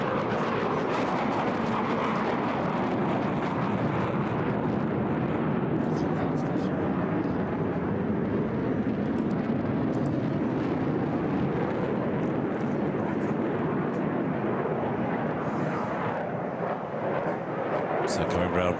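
An HAL Tejas fighter jet flies at the Bahrain air show, a loud, sustained roaring jet rumble that stays strong throughout, with a commentator speaking over it.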